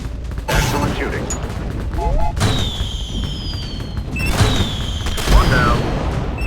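Gunfire and explosions from the Shadow Strike video game, an aerial drone combat scene, crackle in bursts over a steady engine drone, with sharp booms and sweeping whistles as rounds hit, loud and busy throughout.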